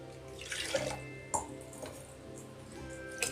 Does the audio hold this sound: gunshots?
no